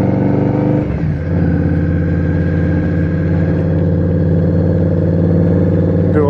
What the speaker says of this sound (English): I love listening to that Crusher Maverick exhaust.